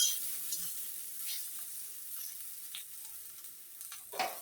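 Flat beans sizzling in oil in a frying pan, a steady quiet crackle with occasional stirring scrapes and a brief louder clatter near the end, no voices.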